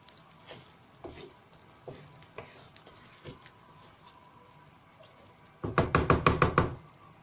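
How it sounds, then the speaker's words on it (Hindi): A spoon stirs chickpea rice with crushed red chili in a pan over a faint sizzle, scattered knocks on the pan giving way to a quick burst of rapid clattering scrapes near the end. "इसको अच्छी तरह मिक्स करना है।"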